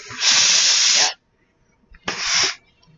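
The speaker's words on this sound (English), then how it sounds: "So it's called dry steam." Two loud bursts of hissing steam from a steam iron, the first lasting about a second, then a pause before a shorter second blast, close by.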